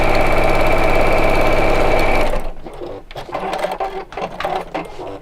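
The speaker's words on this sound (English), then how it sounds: "So I'm sewing in a straight line, but the fabric's angled." A sewing machine stitches fabric in a straight line with a loud, fast, even mechanical whir for about two seconds, then stops abruptly, leaving quieter handling clicks and rustles.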